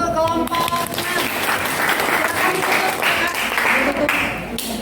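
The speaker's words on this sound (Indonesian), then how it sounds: "beri tepuk tangan untuk kelompok" Loud, dense applause from a classroom audience for a group of chemistry students who just finished their presentation, sustained throughout with some voices mixed in.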